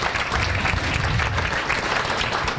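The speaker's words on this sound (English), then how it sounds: "give her a round of applause" Audience applause fills the room at a live event, dense and even clapping from a crowd, loud and close throughout without a break.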